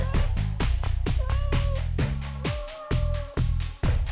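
A cat meows several times in short, rising calls, close and clear, interleaved with a person speaking to it in a coaxing voice.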